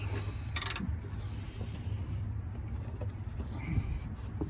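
A 1/2 inch drive ratchet with an adapter turns on a 2014 Ford Flex, giving a short burst of quick clicks followed by faint intermittent mechanical ticks over a low background hum.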